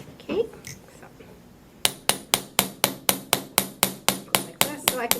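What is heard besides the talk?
hammer striking silver wire to flatten jewelry links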